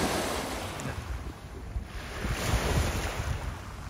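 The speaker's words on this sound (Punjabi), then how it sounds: "ਪਾਣੀ ਦੀ ਆਵਾਜ਼ ਸੁਣੋ।" Water laps at the shore of a lake marina in the evening after rain, a steady wash of surf-like swishing mixed with gusty wind rumbling on the microphone, no talking.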